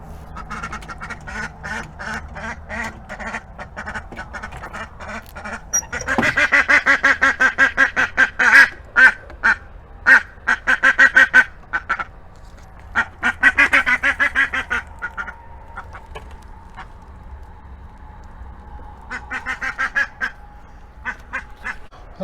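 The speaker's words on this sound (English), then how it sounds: "I hear the ducks kind of making noise" Several backyard ducks quack loudly in rapid bursts, pausing and resuming, with calls close by and overlapping at times.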